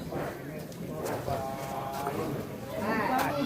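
Water buffalo moo and low repeatedly at a Toraja funeral ceremony, with drawn-out calls heard amid crowd noise and people talking nearby.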